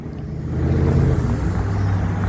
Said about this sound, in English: I don't want you guys to have to sit here and listen to cars.